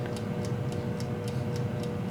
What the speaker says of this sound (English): So you hear the timer tick,